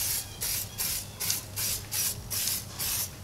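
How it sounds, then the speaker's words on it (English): SONAX wheel cleaner sprayed onto a car wheel with brake dust: about eight short, rhythmic trigger-spray hisses in quick succession, close and fairly loud. "So we're gonna spray down"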